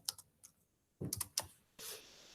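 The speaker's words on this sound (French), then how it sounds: "Je tape location." Typing on a computer keyboard, a few sparse key clicks followed by a short burst of several quick taps and a brief rustle, close and quiet with pauses between.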